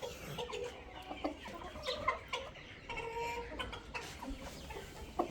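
Hens and a rooster on a farm cluck and chatter continuously at close to moderate range, with busy overlapping calls and no talking.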